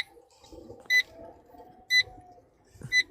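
Electronic beeps sound during a phone call, three short, evenly spaced tones about once a second, clear above a faint background hum.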